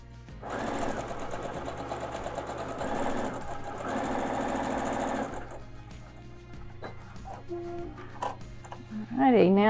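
A sewing machine stitches quilt fabric pieces together in several fast, loud mechanical bursts with brief pauses between them, then stops; a voice speaks near the end.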